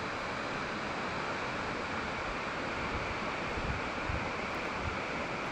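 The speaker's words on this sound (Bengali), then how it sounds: "অনেক উঁচু থেকে জলটা পড়ছে" A waterfall drops from a great height, giving a steady, dense roar of rushing water that holds constant throughout with no voices.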